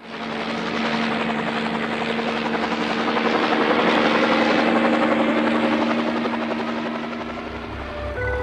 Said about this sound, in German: Er stieg in seinen Hubschrauber und donnerte davon.